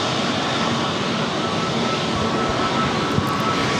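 A Delta Airbus A321neo jet airliner takes off at LAX with a loud, steady roar of engine noise. The roar stays broad and continuous throughout without a break, and no voices are heard.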